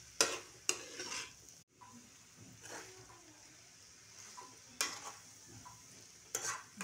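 Veg hakka noodles being stir-fried in a pan, with intermittent sharp scraping and tossing strokes over a soft, low sizzle, close by and without talk.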